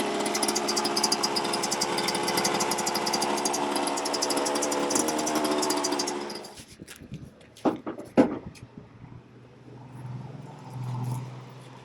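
A Suzuki RM125 two-stroke dirt bike idles with a dense buzzing rattle for about six seconds, then cuts off, leaving scattered clanks and handling noises nearby.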